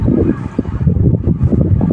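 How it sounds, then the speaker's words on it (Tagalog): Steady outdoor wind gusting across the microphone while a fishing rig with luminous tape is set up for matambaka, a low rumbling buffet that rises and falls throughout with no talk. "mahangin lang, magalaw"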